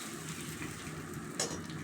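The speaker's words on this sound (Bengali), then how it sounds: "মাছগুলো একটু হালকা করে ভাজবো" Fish heads fry in oil with a steady, close crackling sizzle, fairly even throughout, with one brief sharper spatter near the end and no voices.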